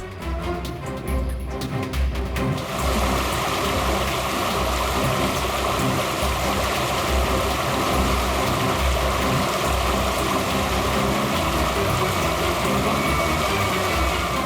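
A waterfall gives a loud, steady, broadband rush that continues unbroken throughout, heard alone without any voices.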